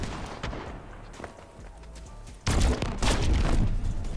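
Gunfire in a video game during a competitive cash cup match: a loud rapid volley of shots crackles on for a couple of seconds, with scattered fainter shots before it, and no talk.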